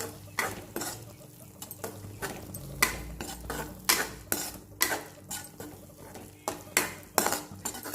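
A spoon stirs a tomato dish in a metal pan after coriander leaves are added, with repeated scraping and clinking strokes in an uneven rhythm, close and fairly loud, with faint sizzling beneath.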